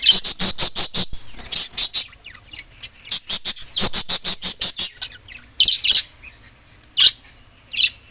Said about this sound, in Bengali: এই যে পাখিগুলো।